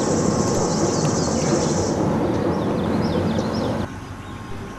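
Indiana Rail Road freight train hauling yellow ballast hoppers rolls past with a loud, continuous rumble that drops off abruptly near the end, while birds chirp faintly in the background.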